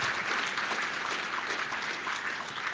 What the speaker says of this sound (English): let's have a round of applause for these papers.